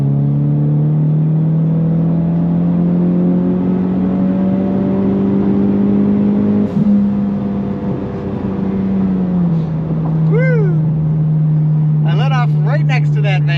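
A Ford Mustang EcoBoost engine pulls hard at full throttle in fifth gear, a loud steady drone rising slowly in pitch, with brief chirps and tire or wind noise near the end.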